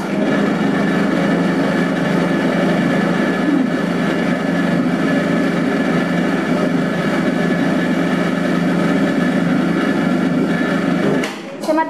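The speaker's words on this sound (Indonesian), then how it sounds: "Saya matikan dulu mixernya" An electric mixer kneads bread dough for soft milk buns with a steady, loud mechanical whir and hum that holds constant, then cuts off abruptly near the end, with no voices.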